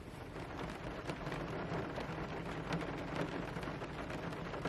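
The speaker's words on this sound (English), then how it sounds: "It's raining." Steady rain falls at night near a ferry terminal, a soft continuous hiss with faint pattering throughout, heard from a distance with no voices.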